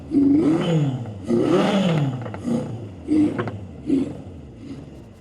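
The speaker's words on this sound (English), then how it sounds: "Let me pop in a neutral and just rev it." A Honda CB750 restomod motorcycle engine revs in neutral, giving four or five sharp rising-and-falling blips, close and loud, with a rough idle between them.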